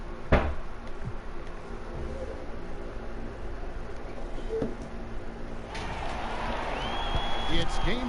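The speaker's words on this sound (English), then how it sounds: "the crowds at the American Airlines Arena look to cheer on the hometown Heat" An arena crowd in an NBA 2K basketball game at the Miami Heat's American Airlines Arena gives off a continuous murmuring roar that swells louder toward the end, while a commentator's voice runs over it.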